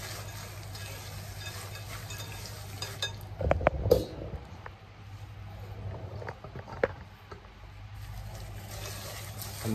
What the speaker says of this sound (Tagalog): Haluhaluin lang natin siya.